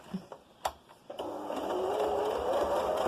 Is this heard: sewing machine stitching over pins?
yes